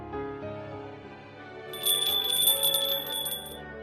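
A small bell rings brightly partway through, a quick series of high metallic strikes over steady music already playing.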